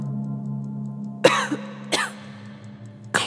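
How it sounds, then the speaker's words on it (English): A person coughs three times in separate sharp bursts, close and fairly loud, over a quiet steady hum with no talking. "Cough."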